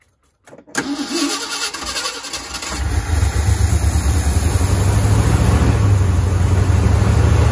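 An old truck engine cranks briefly, catches and fires up, then settles into a loud, steady idle with a rising rumble, close by and with no one talking.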